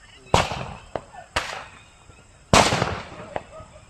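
Diwali rocket fireworks go off outdoors as a few sharp cracking bursts with hissing tails, moderately near, spaced irregularly over a few seconds with faint voices in the background.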